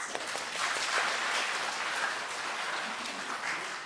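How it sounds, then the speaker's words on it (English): A church congregation applauds during a Sunday worship service, a dense, steady wash of many hands clapping at moderate volume, holding evenly throughout with no talk. "Let us give them a round of applause."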